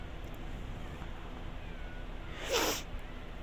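A single short cat meow from The Sims 3 rises briefly out of a quiet game background, fairly close and clear.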